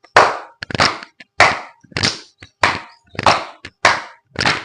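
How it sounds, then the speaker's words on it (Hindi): Hands clapping during a yoga exercise for chronic inflammation, the arms swung forward and back between claps, giving eight sharp, evenly spaced claps, close and loud, with no talking. "हाथ को आपको आगे करके और पीछे करके ताली बजाना है"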